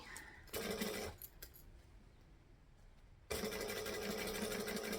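A sewing machine stitches through several layers of fabric in two runs, one short forward burst and then a longer steady whir after a pause, close and fairly quiet with no talk.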